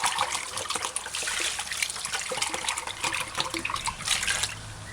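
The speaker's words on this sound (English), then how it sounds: "Drizzle several drops of distilled white vinegar on the rice and then pour enough water on the rice." Water pours steadily onto white rice in a bowl for washing, a loud close splashing trickle running continuously without talk.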